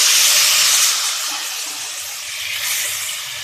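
Tomato puree poured into a hot pan of frying garlic gives a loud, sharp sizzle that eases into steady hissing, briefly swelling again, up close.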